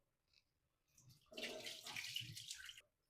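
Tap water gushes steadily for about a second and a half while fish is washed in a home kitchen sink, with a few faint clinks before it and quiet afterward.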